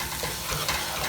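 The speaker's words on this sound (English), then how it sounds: "let's saute this now" Rice with onion powder and garlic powder is stirred in a hot pan for Indian-style dirty rice, giving a brief, steady sizzle with soft scraping of the spoon close by.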